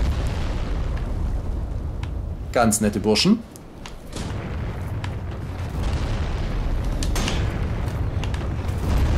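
Booming explosions and blasts from incoming enemy fire in Dark Souls 3's Ashes of Ariandel DLC, with a louder burst partway through, under someone talking over steady background noise.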